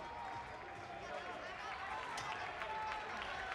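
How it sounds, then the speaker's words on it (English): A crowd cheers at a European club track and field meet in Castellón as runners come through the bell lap, a broad sustained roar under an announcer's continuous commentary. "getting the cheers from the crowd"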